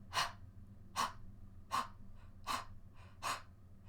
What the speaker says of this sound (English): you're breathing in your full air into your belly